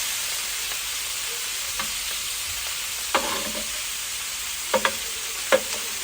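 Sausage sizzling softly in a frying pan while being stirred, a steady quiet fry broken by a few sharp scraping clinks of the utensil against the pan.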